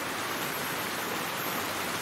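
Water pours steadily from a natural spring spout, a dense, constant splashing rush that fills the whole moment without pause.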